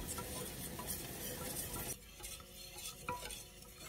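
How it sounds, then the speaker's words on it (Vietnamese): A thick batter for vegan ham is stirred in a pot on the stove, giving a steady scraping, swishing churn with soft clinks of the utensil and a faint sizzle underneath, no one speaking. "khuấy trùng cho nó hơi sệt sệt chút nha"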